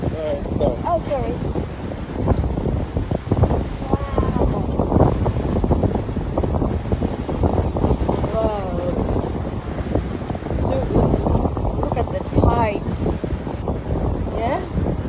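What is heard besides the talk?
strong wind at the beach in Wollongong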